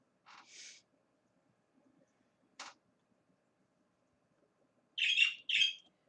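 A bird chirps in a quiet room, with a few short, bright calls spaced far apart: a pair near the start, a single one in the middle and a louder double chirp near the end.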